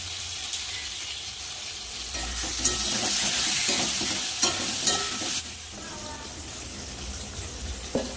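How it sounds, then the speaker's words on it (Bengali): Potatoes fry in a pan with a close, continuous sizzle that swells louder for a few seconds, broken by brief stirring clinks. "আলুটা লাল লাল করে ভেজে নেব"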